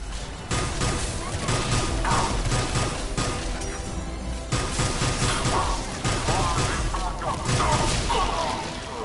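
Rapid gunfire in Mass Effect 3 crackles in dense bursts with crashes and thuds, loud and chaotic throughout, alongside combat noise.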